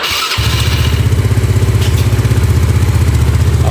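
A Yamaha Nuvo scooter engine fires after a short crank and settles into a loud, close idle with a steady, even put-put rhythm.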